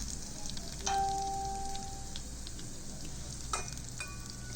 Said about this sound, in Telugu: ఆ తర్వాత కొంచెం మిక్స్ అయ్యేదాకా కొంచెం వేగిన దాకా ఉంచుకోవాలి.